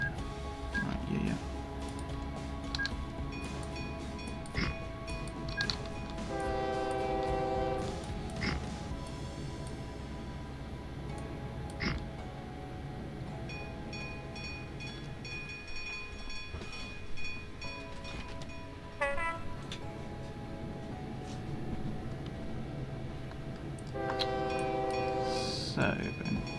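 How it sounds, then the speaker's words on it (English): A Pendolino train departs a station with electric hum, clanks and bursts of tonal horn-like chimes across the stretch, while people talk nearby. "So I'm gonna have to wait for this Pendolino to leave."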